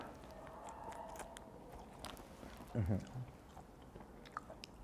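Crunchy squid snack in Thai boat noodle flavour being bitten and chewed close up, a brief crisp crunch standing out near the middle amid faint background noise.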